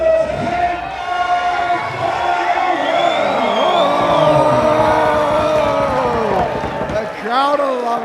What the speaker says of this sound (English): Crowd are loving it.